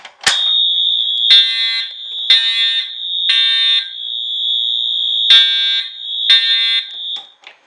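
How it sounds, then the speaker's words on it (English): Edwards fire alarm horns set off from a pull station blare loud and close in a shrill, steady tone, broken by repeated pulsing blasts for several seconds before cutting off. "Let's pull the alarm."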